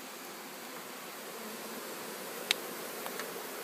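Honeybees buzzing as a package of bees is installed into a hive box, a faint steady hum with a sharp click or knock partway through.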